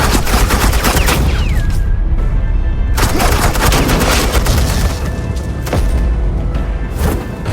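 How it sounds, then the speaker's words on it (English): Sustained heavy gunfire in the Batman Telltale video game, loud and continuous automatic bursts with booming impacts that barely let up. "suppressing fire"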